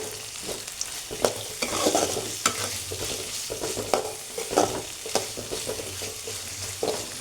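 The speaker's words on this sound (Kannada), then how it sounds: "ನೋಡಿರಿ ಇದೆಲ್ಲ ಚೆಂದಾಗಿ ಫ್ರೈ ಆಗೈತಿ" Tomato rice mixture for chitranna frying in a pan while being stirred, steady sizzling broken by repeated scraping strokes of a spoon, close and continuous with no talking.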